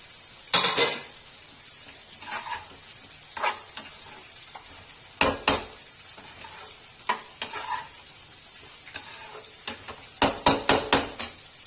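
Potatoes, peas, roasted cabbage and capsicum stir-fry in a pan for a Kashmiri mixed vegetable dish, with a soft sizzle under repeated sharp clanks and scrapes of a spoon against the pan, coming in irregular bursts.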